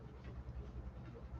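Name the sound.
dog panting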